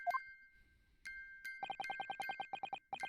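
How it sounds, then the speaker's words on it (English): A music box in The Great Ace Attorney video game plays a fast run of bright, evenly spaced chimes over a sustained tone, following a few scattered game effect sounds. "the sound emanating from this music box is Not supposed to be music"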